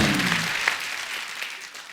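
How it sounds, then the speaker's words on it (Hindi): Studio audience applause on a Hindi comedy talk show, a dense clapping crowd that stays loud and then gradually thins toward the end. "उसके लिए जोरदार तालियां।"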